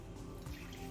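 Water running into a pot of South Coast chicken curry, a soft, steady splashing and trickle that stays close and low without any talk.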